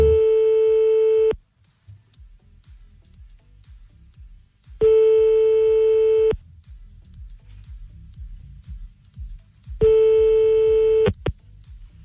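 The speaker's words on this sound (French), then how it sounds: "Bon, on le rappelle." A phone line being redialed, with three long electronic tones repeating at regular intervals and quiet gaps between them, loud and close.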